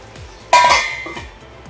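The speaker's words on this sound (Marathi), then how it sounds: "मी झाकण ठेवून गॅस बंद करते" A metal lid is set down on a pot of Khandeshi-style shev bhaji rassa curry on a gas stove, giving one sharp clatter and a brief metallic ring that fades quickly in a quiet kitchen.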